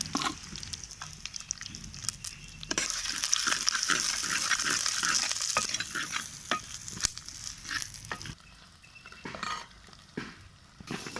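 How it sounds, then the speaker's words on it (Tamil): Garlic and onion sauté in hot oil for a village-style fish curry, with a steady sizzle broken by sharp scrapes and clinks of a spatula stirring against the pan; the frying swells louder midway, then eases back down. "பூண்டு வெங்காயம் போட்டு எண்ணெயில் போட்டு நல்லா வதக்கணும்"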